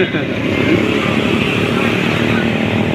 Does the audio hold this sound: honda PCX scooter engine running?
yes